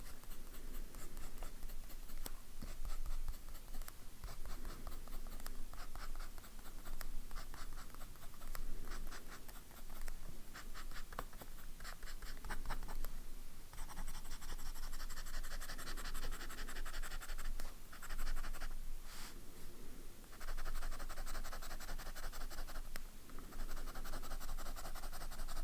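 A fountain pen with a medium 05 nib scratches steadily across paper, a continuous close-up writing sound with small rhythmic strokes and brief pauses, no voices.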